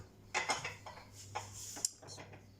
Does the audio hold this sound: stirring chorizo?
yes